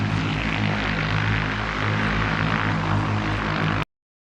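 An electric vertical takeoff aircraft flies during a public test flight, giving a loud, steady propeller buzz with a strong low hum that cuts off abruptly near the end.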